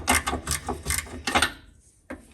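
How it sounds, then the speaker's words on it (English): A 17mm spanner turns a bolt on a 2016 Mitsubishi Outlander PHEV during a rear differential bush mount replacement, giving a quick series of close metallic ratcheting clicks in bursts, then a pause and one more short click. "I'm gonna have to hold the bolts to the other side. 17mm spanner."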